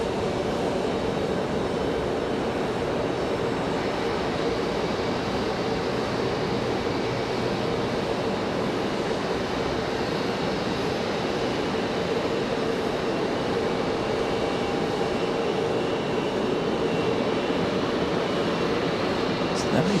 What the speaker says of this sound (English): Always fun to watch these ATRs come in. Coming in nose down.